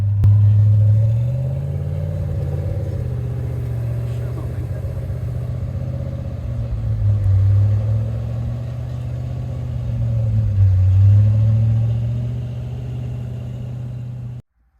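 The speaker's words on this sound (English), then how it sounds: "This Jeep Gladiator decided to go ahead and give Big Heart Attack a try" A Jeep Gladiator tackles the Big Heart Attack off-road obstacle on a dry day, its engine a steady low rumble that swells and dips with throttle, close and loud, ending abruptly.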